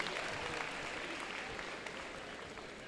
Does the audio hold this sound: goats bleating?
no